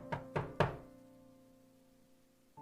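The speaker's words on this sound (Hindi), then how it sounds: "मैंने दरवाजा खटखटाया।" Three sharp knocks on a closed door come in quick succession, close and resonant, followed by a lingering room hum and a faint thud at the end.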